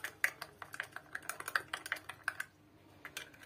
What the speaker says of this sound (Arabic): نخلط هكا هذا الحليب